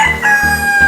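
A rooster on a rural provincial farm, with Rhode Island and native chickens kept nearby, crows loud and close in a short, strident burst with harmonic clucking tones.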